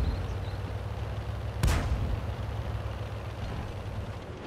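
A single tank gun shot rings out in the World of Tanks video game, one sharp broadband blast near the middle that decays over a second or so above a steady low engine rumble, with no talk.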